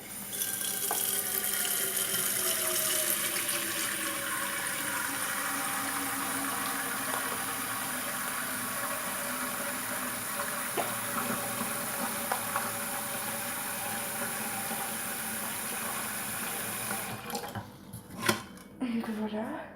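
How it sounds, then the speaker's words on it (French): Tap water runs steadily into a pot in a home kitchen with a continuous, moderately loud stream, then cuts off near the end, followed by a few light clinks. "Donc on va mettre un petit peu d'eau."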